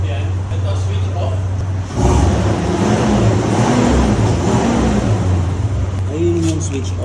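Mitsubishi Montero Sport idling and revving with its Valvetronic exhaust valve switched off, a loud steady engine drone that swells into a raspier rev, with a person talking over it.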